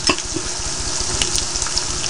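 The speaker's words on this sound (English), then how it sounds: "This garlic cooks so quick, it has a tendency to burn. As soon as you put it in the pot, it browns up so quick." Garlic sautéing in a pot, a steady bright sizzle and crackle with a few small pops near the start, close and fairly loud, with no one talking.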